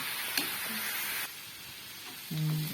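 Amaranth greens (mulai keerai) stir-fry sizzling in an open pan as it is stirred, a steady soft hiss with a few light scrapes, quieter midway and ending in a brief tonal hum.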